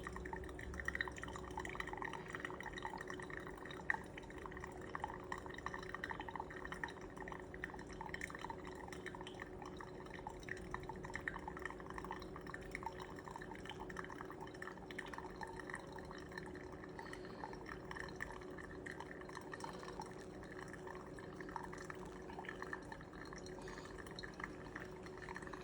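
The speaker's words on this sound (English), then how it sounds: "I'm still pouring in a circular motion" Steady trickling and dripping of water poured over coffee grounds for pour-over coffee, over a continuous low hum, faint and close, with no pauses for the whole stretch.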